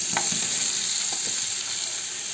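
Tyson chicken for sukka frying in a pan, with a steady close sizzle throughout and a few soft stirring knocks, no voices.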